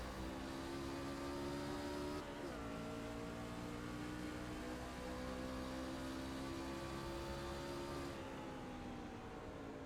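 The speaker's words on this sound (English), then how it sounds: "Still downshifting." A race car engine at the Milwaukee Mile drones continuously from on board, its pitch dropping sharply twice as it downshifts, loud and unbroken, with no voices.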